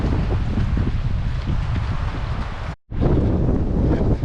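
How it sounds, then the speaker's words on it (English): Wind gusts around Phelps Lake, buffeting the microphone in a loud, continuous roar that cuts out for a moment before resuming just as strongly. "Wind's picking up around the lake."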